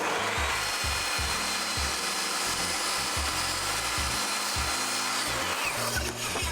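A power saw, such as a circular or table saw, whines steadily while cutting, with repeated low thumps and bursts of grinding as the blade works through wood.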